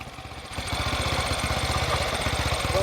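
A small four-stroke 250cc motorcycle engine of about 8 to 10 horsepower runs steadily with a rapid, pulsing putter, loud and close, picking up slightly after a brief softer start.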